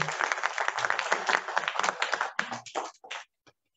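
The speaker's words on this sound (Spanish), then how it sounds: "Fuerte aplauso, por favor, por esta aportación." Applause from a conference audience honouring a doctor's talk, a dense burst of clapping that thins out near the end and stops before a final stray clap.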